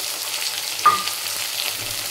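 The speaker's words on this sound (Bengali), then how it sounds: "পোস্ত লঙ্কা আদা ওগুলো সব দিয়ে দিলাম, দিয়ে এবার নাড়বো" Poppy seeds with chilli and ginger fry in a pan with a constant close sizzle, a single scrape of a spoon stirring them cutting through briefly.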